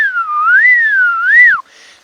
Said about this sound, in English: It's called a whistler because it doesn't actually chirp; it whistles, and it's quite an unusual whistling.